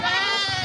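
A goat bleats loudly and close up amid a busy goat market in Bhopal, a single sustained wavering call filling the short moment.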